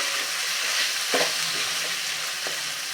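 Pav bhaji vegetables with half a beetroot being stirred and mixed in a pan, a soft steady sizzle with a couple of brief scraping strokes, close and moderately quiet, no talking.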